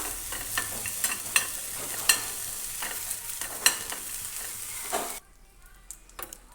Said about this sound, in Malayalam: ഞാൻ ആദ്യം തന്നെ ഇതിലേക്ക് ഇട്ട് കൊടുക്കുന്നത് ഉണക്കച്ചെമ്മീനാണ്. ഇത് നന്നായി ഒന്ന് റോസ്റ്റ് ചെയ്തെടുക്കാം.